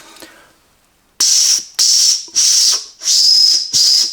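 A small, poorly working whistle on a multitool is blown five times in short, breathy, hissing bursts, loud and close, after a brief quiet rustle.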